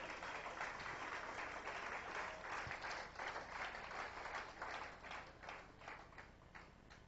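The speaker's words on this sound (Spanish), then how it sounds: "dale ese fuerte aplauso al Rey" Congregation applauding for the King during a church service, steady dense clapping from a crowd that holds for several seconds and then tapers slightly.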